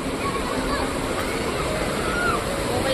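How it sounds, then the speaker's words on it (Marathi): Steady, full rushing of the flowing Ganga river at Haridwar fills the whole clip, with faint voices in the background. "नदीचा प्रवाह बघा किती"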